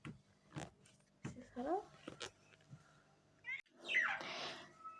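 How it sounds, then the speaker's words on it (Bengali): A house cat gives a couple of short, rising meows amid quiet indoor noises and soft human voices, with a longer, louder meow near the end. "এই যে দেখেন সেই বিড়ালটা আমাদের বাসায়"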